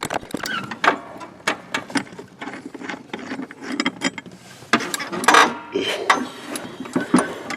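Ratchet clicking in quick uneven bursts while a 10mm bolt is loosened on a John Deere S240 lawn mower, close up, with some metallic clatter between strokes.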